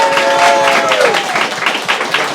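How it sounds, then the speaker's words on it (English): Crowd applause at a fight club press conference, dense clapping close and loud throughout, with a voice trailing off at the start. "Let's give these guys a round of applause"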